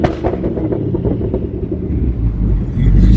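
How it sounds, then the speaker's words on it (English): Loud, close Ford Mustang engine rumble revving with uneven exhaust pops and crackles, swelling into a heavier roar at the end. "let me give y'all some revs"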